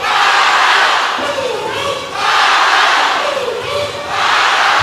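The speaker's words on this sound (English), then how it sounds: "this gym couldn't be more electric as their hometown crowd finally comes alive" A hometown basketball crowd roars in a packed high school gym during an Elite 8 playoff game, loud sustained cheering that swells in waves with brief dips between surges.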